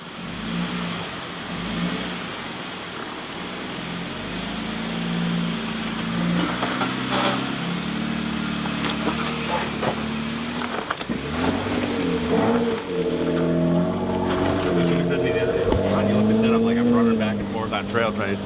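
A Jeep JK with a newly installed suspension kit revs and labors along rough Class 4 off-road trail roads, its engine droning and rising in pitch with throttle, while voices talk over it.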